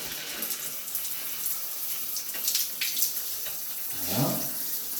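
Water pours steadily from a Grohe Cosmopolitan thermostatic shower tap with a broad, continuous hiss and splash, close and fairly loud, with a brief rising gurgle near the end.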